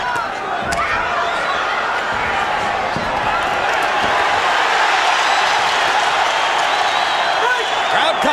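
Boxing arena crowd cheering loudly during the Manny Pacquiao versus Marco Antonio Barrera fight, a dense sustained roar with scattered punch thuds, swelling in the second half as the noise builds.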